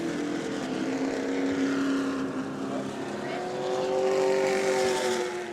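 Super late model race cars roar at New Smyrna Speedway, a loud, sustained engine drone with rising and falling pitch as the cars pass, while a race announcer talks over it.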